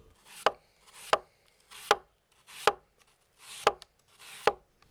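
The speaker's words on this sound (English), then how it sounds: "The author points out that the apples must be cut thin like a roast." A knife slicing apples thinly on a cutting board: six evenly spaced crisp cuts, each a brief crunch ending in a sharp tap on the board, close and clear with no talk.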